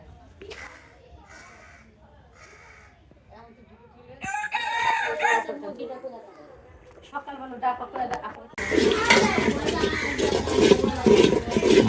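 Village chickens and a rooster cluck and crow in a rural Tangail yard, starting with a few clear close calls, then several overlapping crows while people talk nearby.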